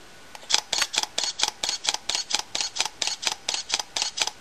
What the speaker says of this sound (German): das sind sehr schnelle Auslöser, die ich da jetzt hintereinander betätigen kann